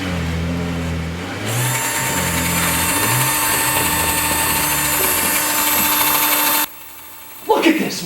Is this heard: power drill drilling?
yes